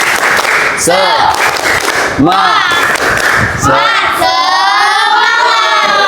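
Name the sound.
class doing the "tepuk semangat" rhythmic clapping chant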